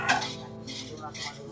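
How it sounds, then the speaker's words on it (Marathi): Dishes, pots and pans being scrubbed and washed by hand during a Holi biryani party at home, with clinking metal against metal close by and background voices. "एकजण भांडी घासतोय"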